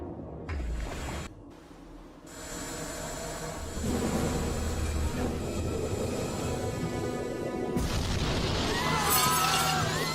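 A torpedo fired from the German submarine U-20 strikes the RMS Lusitania, a loud booming blast with a sharp burst and crashing debris, followed by sustained roaring rumble and a brighter hiss of breaking water toward the end.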